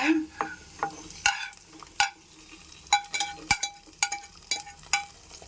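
Sakkarai pongal being stirred in a pan with golden-fried coconut and cashews, a ladle scraping in a steady series of sharp clinks and scrapes over a soft sizzle, close and clear.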